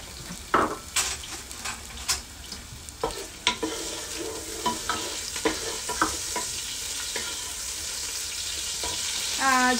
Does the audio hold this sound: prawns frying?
yes